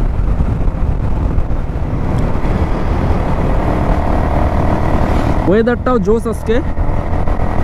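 A motorcycle at full throttle roars steadily with heavy wind buffeting the microphone, and someone speaks briefly near the end over the engine.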